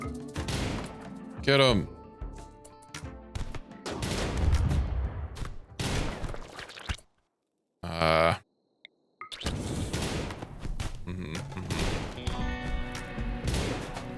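Bursts of rapid gunfire erupt repeatedly during a video game raid on an armed group, with loud cracking volleys, a brief silent gap midway, and a voice calling out over the shooting.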